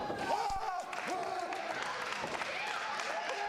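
Arena crowd at a Battleground Pro Wrestling event cheering and applauding steadily during a tag-team match, with an announcer talking over the dense, continuous roar.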